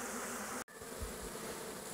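A honeybee swarm buzzes near a wooden hive box, a thick, steady drone that cuts out for a split second and then carries on unbroken, close by and with no talking.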